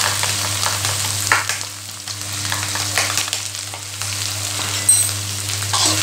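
Pounded chili, garlic and shallots fry in hot oil for a Thai holy basil stir-fry sauce, giving a steady, close sizzle with light stirring scrapes throughout and no talking.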